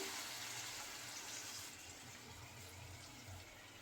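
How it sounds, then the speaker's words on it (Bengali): Water pours steadily into a pot of fried onions and potatoes in a continuous rushing stream, with no voices. "পানি দিয়ে দেবো"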